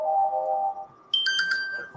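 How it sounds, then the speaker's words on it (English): An incoming call sets off a phone ringtone, a bright electronic chime melody that starts as lower notes, then climbs into higher bell-like tones, fairly close and clear with no talking. "Apologies for that phone call coming in."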